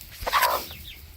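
Hens in a coop give a few short clucks and a brief squawk, close by and fairly loud, over a steady low hum of the enclosure.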